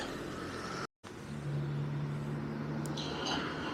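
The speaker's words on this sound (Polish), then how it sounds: "Jedzie, jedzie. Jak już widzicie, to jest Renault Zoe." A Renault Zoe electric car rolls up a residential street, a faint, low steady hum with soft road noise at a distance and no one speaking.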